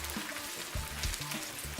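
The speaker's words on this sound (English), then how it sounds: "So you bring the sandwiches down into the pan and let them sizzle into place" Sandwiches frying in a pan, a steady crackling sizzle with soft pops and a low rumble, fairly quiet and continuous, no voices.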